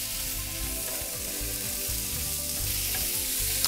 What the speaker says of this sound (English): Just kind of mix that all together and give that a little sizzle for a while